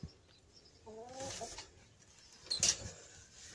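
A hen gives a short series of soft, low clucks, close but faint, over quiet room noise, with a few light knocks and scuffles around it.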